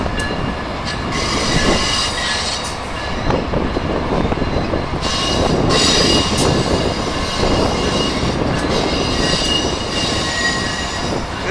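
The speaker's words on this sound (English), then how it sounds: "Here we got ACS-64-609. Pulling an outbound Keystone to Harrisburg." An Amtrak ACS-64 electric locomotive pushing a northbound Keystone passenger train out of Philadelphia's 30th Street station, a continuous loud rumble of wheels on rails with intermittent high squeals and clatters.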